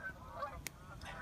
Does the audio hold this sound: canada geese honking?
yes